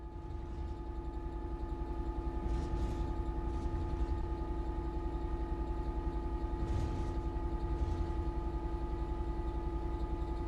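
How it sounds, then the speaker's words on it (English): In Train Sim World 5, a simulated train coasts on level ground with a steady, continuous low engine rumble and droning hum. No voices are heard. "The train will then coast on level ground and the train will only slow down very gradually."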